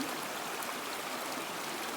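A shallow creek flows in a steady, soft babbling wash that stays even throughout, with no voices.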